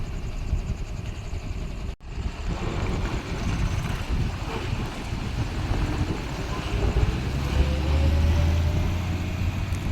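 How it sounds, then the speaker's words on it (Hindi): A Tata Signa BS6 Phase 2 truck engine runs with a steady, loud low rumble and broad noise throughout, briefly cut off near the start, then a deeper drone swells toward the end. "ये आवाज ओरिजिनल हुआ गाड़ी का"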